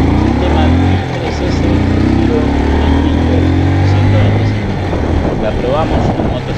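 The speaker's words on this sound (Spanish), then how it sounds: "cuando apretás el embrague, la moto arranca y sale" Hero Ignitor i3S motorcycle pulling away as the clutch is engaged, a loud, close, continuous engine drone with rising revs throughout.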